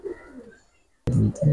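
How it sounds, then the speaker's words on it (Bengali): Two pigeons for sale cooing close by: a soft, low coo fades out, then after a brief pause a louder, throaty burst of cooing starts abruptly. "এই দুইটা কবুতর"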